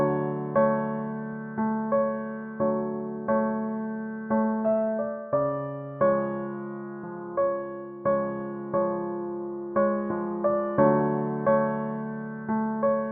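Piano chords in a vintage R&B style with added top notes placed here and there for rhythm, a steady pattern of struck chords with small melodic accents, moderately soft and alone without any voice.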